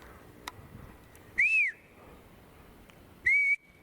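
Two clear, pure whistled notes a couple of seconds apart, each rising then falling, sharp and bright against a quiet background.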